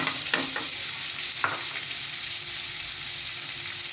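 Chopped onion frying in cooking oil in a pan, a steady close hiss of sizzling with a few scraping stirs near the start, continuous and even throughout, with no talking.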